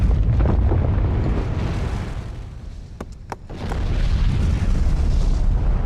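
Krakatau volcano erupting with terrifying force, a deep continuous rumbling roar that dips briefly, breaks into a couple of sharp cracks, then swells back to a loud sustained boom.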